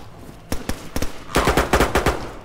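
Bursts of gunfire in the survival game DayZ: a pair of sharp shots, then a quicker rapid cluster of loud, close reports with brief pauses between.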